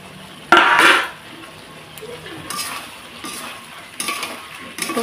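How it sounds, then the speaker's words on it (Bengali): Fried taro pieces are added to a pan of spice paste for a fish curry, bringing a loud clatter and scrape of utensil on pan, then softer stirring and faint sizzling with intermittent clinks. "এখন আমি দিয়ে দেবো ভেজে রাখা কচুগুলো।"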